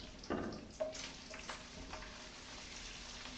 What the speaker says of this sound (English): I got to pause to stir my bacon